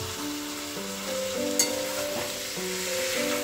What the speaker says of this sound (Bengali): এবার মাংসটাকে কিন্তু ভালো করে কষাতে হবে